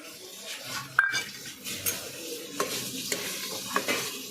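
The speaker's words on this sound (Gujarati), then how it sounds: "થોડીક વાર તળવા દેવાનું." Capsicum pieces with ginger-garlic paste fry in a home pan for pav bhaji, a steady close sizzle broken by several sharp clinks and scrapes of a spoon stirring against the metal.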